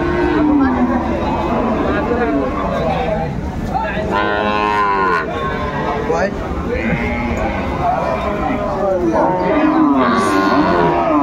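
Several long, drawn-out moos rise repeatedly from cattle, including a milking cow with her calf, at a crowded livestock market, close and loud over constant chatter and bargaining voices.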